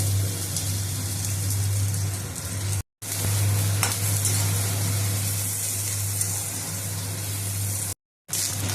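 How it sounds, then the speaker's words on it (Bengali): Bitter gourd pieces frying in hot oil, a dense, continuous crackling sizzle with a low steady hum beneath, broken by two brief silent gaps. "ঠিক একইভাবে কিন্তু আমি উচ্ছেগুলোকেও ভেজে নেব, লাল করে"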